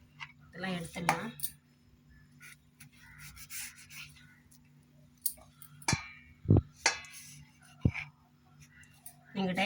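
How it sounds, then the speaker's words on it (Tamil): A knife cutting a kambu khajur, a pearl millet sweet, into pieces: soft scraping and rubbing strokes, then a few sharp taps of the blade on the board, close and quiet, with a voice speaking between them. "இப்போ இதை நம்ம கட் பண்ணிக்கலாம். உங்களுக்கு தேவையான சைஸில் கட் பண்ணிக்கோங்க."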